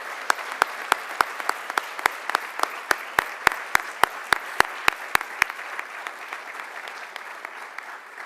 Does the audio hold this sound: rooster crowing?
no